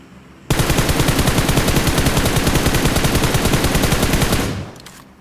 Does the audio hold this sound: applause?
no